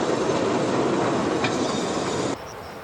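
Tiny narrow-gauge locomotives once used in agriculture and industry run on a small dedicated railway, giving a loud, close, steady rolling rumble and rattle that cuts off sharply near the end.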